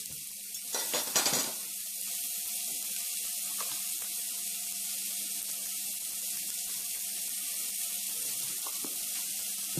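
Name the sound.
sandwich with raclette frying in pan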